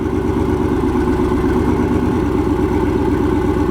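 A turbocharged LS6 V8 swapped into a Volvo idles with a misfire, a loud steady rumble with an uneven, lumpy pulse running throughout, no voices.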